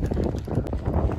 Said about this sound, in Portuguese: Tá ventando pra caramba